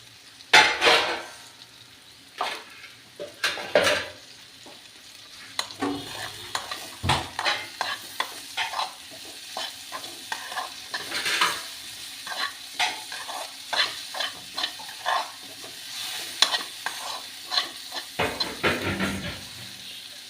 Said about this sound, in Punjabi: ਮਸਾਲਾ ਆਪਣਾ ਭੁੱਜ ਰਿਹਾ ਜੀ